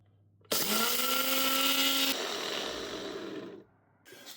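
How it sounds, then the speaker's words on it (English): A blender grinds whole spices and turmeric into Madras curry powder, roaring loud and close as it starts abruptly, its pitch dropping slightly as the load settles, then cutting out to near silence before a brief restart. "So that was blending for approximately 2 minutes."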